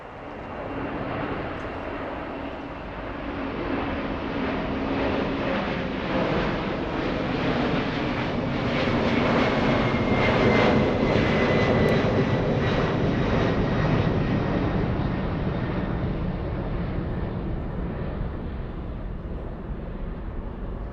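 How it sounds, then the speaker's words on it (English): Boeing 747-400 cargo jet lined up at LAX, its engines producing a steady, loud roar with broadband rumble and a faint high whine that swells slightly mid-way and holds for about twenty seconds, with no voices. "A 747-400 lined up and getting ready to move."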